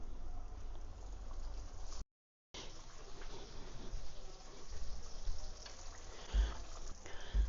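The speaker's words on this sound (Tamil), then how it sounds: "ஒரு 5 மினிட்ஸ் கொதிக்க வைப்போம்." A pot of spicy fenugreek tamarind curry bubbles and simmers steadily with soft gurgling and popping, close by, briefly cut to silence partway through.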